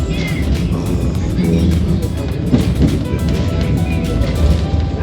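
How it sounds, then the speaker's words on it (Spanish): A tram rolls through the streets of Brussels in a steady, rumbling pass with faint rail clatter, mixed into busy street noise throughout. "El tranvía trucho dejó de ser trucho y ahora es un tranvía"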